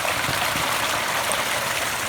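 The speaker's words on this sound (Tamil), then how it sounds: "நம்ம இன்லெட் பைப்லேருந்து தண்ணி விழுந்துட்டுருக்கு" Water pours steadily from an inlet pipe into a fish pond during a water change, a continuous close gushing splash with no breaks or voices.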